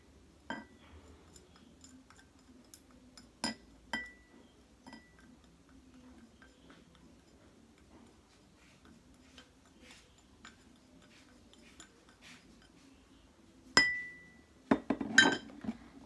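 Spoon clinking against a drinking glass while coffee is added to water for a colloid Tyndall-effect experiment; scattered sharp clinks and taps, a few louder strikes near the end, over a quiet room hiss.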